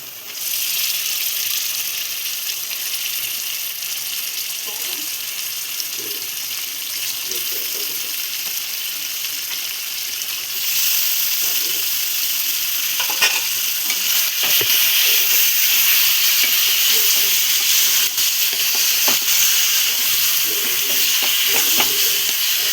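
Chicken tipped into a pan of onions and turmeric for a festival-style Telugu chicken curry, frying with a steady, close sizzle that grows louder partway through, with occasional stirring clinks.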